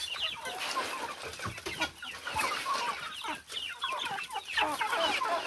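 Chickens cluck steadily in an early-morning farmyard while being fed corn, a dense close chorus of overlapping clucks and chatter with no talking.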